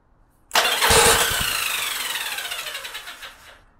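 The electric starter cranks a Yamaha Virago motorcycle engine for about three seconds. A loud whirring churn rises abruptly with some low chugs early on, then slowly fades as the engine fails to catch. No voices are heard.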